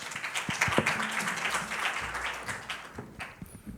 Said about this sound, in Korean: 예, 박수로 맞이해 주시고.